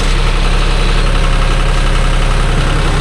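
A John Deere 5050D tractor runs steadily while pulling a rotavator across a field, its engine giving a loud, continuous idle-like rumble with no breaks and no voices.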